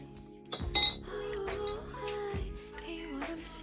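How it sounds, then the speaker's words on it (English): Orange juice poured into a glass at home, with a sharp clink of glass near the start followed by a steady soft pour that runs for a few seconds, close and fairly quiet. "I then poured myself a glass of orange juice"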